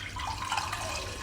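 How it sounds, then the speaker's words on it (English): Water streaming steadily from the tube of an SPA800 machine, a continuous close splashing trickle with no talk. "The water will come out from this tube."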